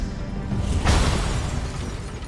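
A Thunderclap ability goes off in Marvel's Avengers, a single loud booming blast with a sharp crack at its onset, then a rumbling tail under dense game combat noise.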